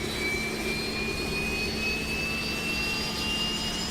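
APU running on a PMDG 737 in Microsoft Flight Simulator 2020, a steady loud turbine roar with a thin high whine rising slowly above it, continuous throughout with no talk.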